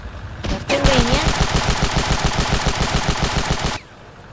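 Rapid automatic gunfire in the Ravenfield video game: a loud, close burst of evenly spaced shots rattles for about three seconds before stopping abruptly, with a brief vocal sound near the start.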